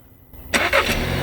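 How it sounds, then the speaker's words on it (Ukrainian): Brief quiet, then the engine of a 2020 Volkswagen Passat cranks and catches with a sudden loud burst that settles into a running rumble, nearby. "І автомобіль успішно завівся."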